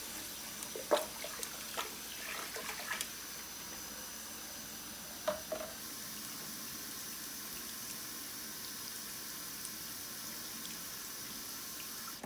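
Warm tap water runs steadily while washing developed photographic film, a soft continuous splashing stream with a few faint clinks early on.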